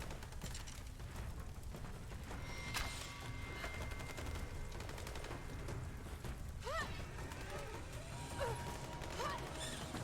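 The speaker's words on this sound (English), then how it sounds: "I do hear some gunfire." Dense, continuous crackle of rapid gunfire from a battle in Rise of the Tomb Raider, with a few brief higher tones cutting through near the end.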